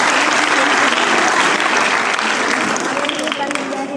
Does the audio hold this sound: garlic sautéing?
no